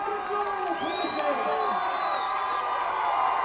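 Cheering from a football stadium crowd during a college game near the goal line swells in a dense, continuous roar with whoops, while an announcer talks over it.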